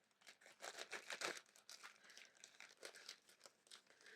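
Plastic packaging around a pack of paper napkins crinkles and tears as it is cut open, a close, steady run of crackling rustles over about four seconds with no talking.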